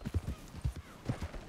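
Hooves of a slow but sturdy horse in the video game Red Dead Redemption clip-clop in an uneven walking rhythm, fairly close and moderately loud, with no talk over them.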